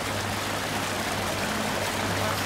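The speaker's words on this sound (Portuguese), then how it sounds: "a cachoeira aqui vai ficar meio altinha pra você baixar o volume dela" A waterfall in Farming Simulator, on a Minas Gerais farm map, rushes as a constant, dense broadband wash of water, steady and fairly loud with no pauses.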